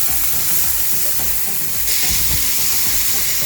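Sliced ingredients hitting a hot pan for a Jollibee-style spaghetti sauce, a loud, close, continuous sizzle with stirring scrapes and a brief rise in the hiss partway through.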